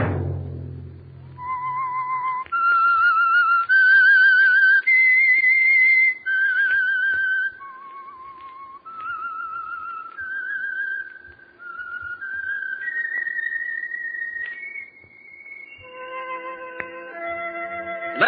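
A lone person whistles a slow, wavering melody of sustained clear notes, stepping up and down in pitch, with a brief low thump at the start.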